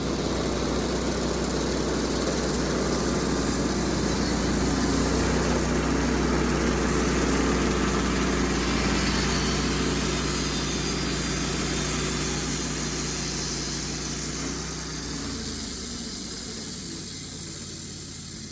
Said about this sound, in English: we're gonna saw this one more than the other one